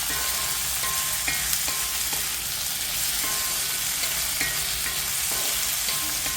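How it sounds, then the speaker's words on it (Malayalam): Sliced onion and potato fry in a pan with a dense, continuous sizzle and occasional faint scraping of a stirring utensil; no voices. "ഉരുളക്കിഴങ്ങ് കൂടി ചേർത്തിട്ട് ഇതൊന്ന് ഫ്രൈ ആവണം"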